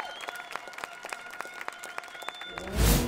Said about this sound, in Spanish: aplausos para el ganador Jochen Hahn